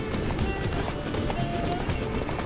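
Roach the horse's hooves in The Witcher 3, a quick run of galloping clip-clops over a busy background of game ambience, steady and fairly close.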